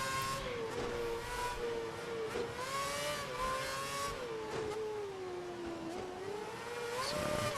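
A Formula 1 car in the game F1 2011 laps the wet Korea circuit with a little wheel spin, its high engine whine rising and dipping steadily and loudly throughout, with no other sounds.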